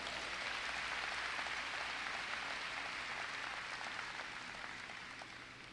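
A church congregation applauds during an afternoon sermon, a steady, even wash of clapping that stays dense throughout and tapers slightly toward the end, heard alone without speech.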